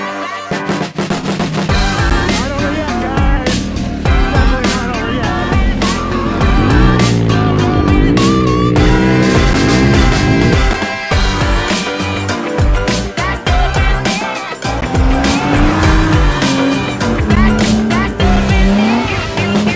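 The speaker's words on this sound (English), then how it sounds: "This is the KTM 1090 Mongo that I've been riding for the" A KTM 1090 adventure motorcycle rides an off-road trail, its engine loud and close throughout, revving and surging with changing pitch and no pauses.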